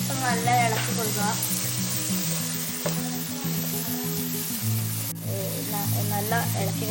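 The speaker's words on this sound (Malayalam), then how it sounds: "നമ്മുടെ ഈ ഉള്ളിന് തക്കാളിൻ്റെ മണമൊക്കെ പച്ച മണം പോകാനും വേണ്ടി പോകുന്നത് വരെ നല്ല ഇളക്കി കൊടുക്കുക." Onions and tomatoes sizzling in a pan while being stirred, a constant loud frying hiss with occasional scrapes, up close, while a person talks over it.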